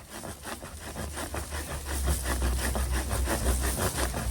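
An HX Outdoors Megalodon Machete saw cuts through a swaying tree branch, giving a steady run of rough rasping strokes that stay close and fairly loud over a low rumble.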